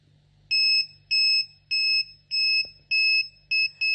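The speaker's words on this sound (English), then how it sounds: "the red LED and the buzzer are on" A gas leak alarm buzzer on a microcontroller project beeps loudly in a regular run of seven sharp, piercing electronic tones, the last two shorter and quicker, over a faint low hum.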